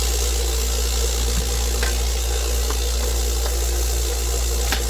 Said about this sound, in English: Clean these up in a little bit of water.